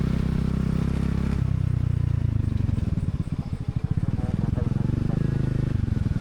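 A motorcycle engine rumbles steadily up close at a riverside camp and resort, its low throbbing growl continuous throughout, with some clattering and muffled voices mixed in.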